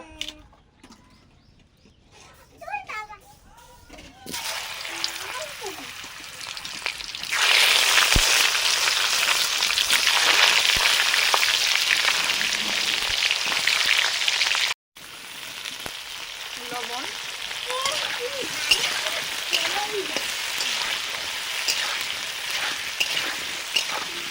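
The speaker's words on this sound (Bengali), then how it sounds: "এবারে খিচুড়ির সবজিগুলো ভাজবো।" Vegetables for khichuri sizzle loudly in hot oil, a dense steady hiss that fills the clip. Quiet kitchen sounds come first, then the frying starts, pauses for a moment, and carries on with faint clinks.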